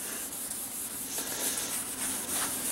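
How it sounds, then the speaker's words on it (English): A rag rubs cleaning product into copper or brass, a continuous close, scratchy scrubbing hiss with slight swells in rhythm, no talk. "now that I've kind of rubbed all that in"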